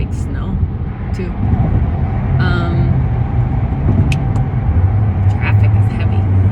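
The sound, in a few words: heavy road traffic, cars passing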